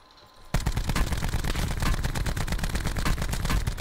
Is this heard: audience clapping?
no